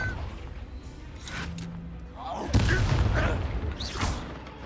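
A blast from the fiery Confringo spell in Hogwarts Legacy, a loud burst with a crackling crash that decays over a second or so over ambient game sounds.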